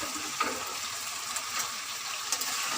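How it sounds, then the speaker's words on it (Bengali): Potatoes and previously fried pointed gourd go into hot oil in a pan, giving a steady, moderately loud sizzle and crackle with a few sharper pops and light stirring clinks. "এবারে আমি দিয়ে দেবো আলু দিয়ে দেবো, আর এই যে ভেজে রাখা পটলটাও এর সঙ্গে আমি দিয়ে দেবো।"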